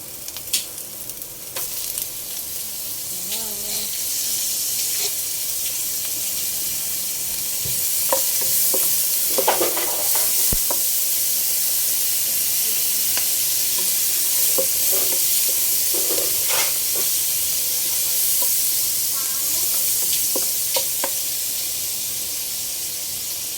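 Butter sizzling in a hot pan while seafood cooks, a steady close hiss with occasional stirring clinks and small pops, building slightly in the middle and holding, no voices.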